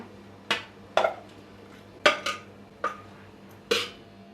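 Cooked rice-flour dough (ukad) for bhajani chakli goes into a metal paraat, giving about six short, sharp metallic clanks and scrapes spaced irregularly, close and fairly loud over a quiet kitchen background.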